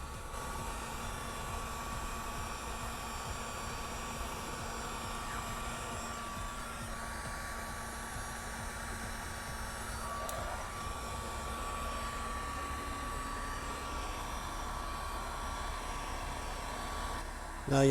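A heat gun blows a steady, even hiss of hot air while reheating material to shape a Boba Fett vambrace; the whoosh stays constant and close throughout.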